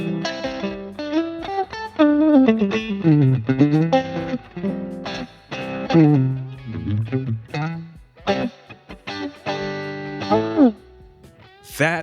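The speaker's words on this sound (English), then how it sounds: "This is the Valeton GP5 loading NAM capture that I've loaded in, added reverb on that device." Electric guitar played through a Valeton GP5 modeler loading a NAM capture with added reverb, a distorted melodic lead with bends and sustained notes, phrases rising and falling with reverb tails between them.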